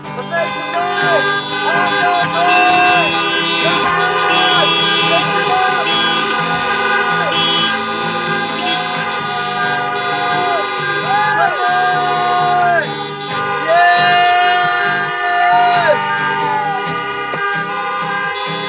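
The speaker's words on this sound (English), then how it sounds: "Let's honk our horns for Jesus." A crowd of car horns honks together at a drive-thru church prayer meeting, a dense and loud overlapping blare of many pitches. It holds almost without a break, with brief dips and swells.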